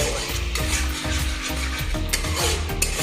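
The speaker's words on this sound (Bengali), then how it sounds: "2টো ছিঁড়ে রাখা কাঁচা লঙ্কা, হাফ টেবিল স্পুন জিরে, কালো জিরে দিয়ে এটাকে মোটামুটি 5-7 সেকেন্ড ভেজে" Green chilies with cumin and nigella seeds frying in hot oil in a pan, a close steady sizzle broken by repeated scraping stirs.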